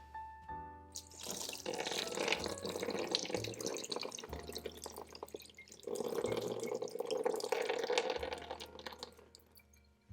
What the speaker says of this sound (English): So I'm going to drain this off.